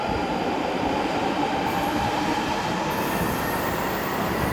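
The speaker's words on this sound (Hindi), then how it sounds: "ये जनाब लंदन का ट्यूब मैं एक ट्रेन तो चली गई है" A London Underground tube train pulls out of a station with a continuous loud rumble and rail noise close by. No voices are heard over it.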